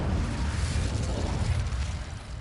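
Incendio fire spell cast in Hogwarts Legacy, a loud dense whooshing burst of flame that roars steadily for a couple of seconds amid combat.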